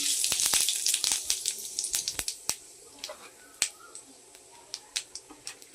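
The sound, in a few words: whole white cumin seeds sizzling in hot oil for tempering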